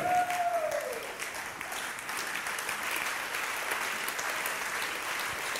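A church congregation applauds during a sermon. The clapping is broad and sustained, loudest at the start and then holding at a steady, slightly softer level, with faint crowd voices mixed in.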